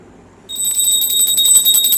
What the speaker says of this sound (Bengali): ঘন্টাটা বাজিয়ে দিল।